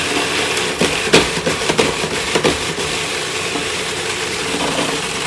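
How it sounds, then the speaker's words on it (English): A food processor purees a salmon-ginger gefilte fish mixture with salt and parsley, a steady close whirring grind with a few knocks and bumps early on before it settles into an even drone. "We're going to make this into a nice puree"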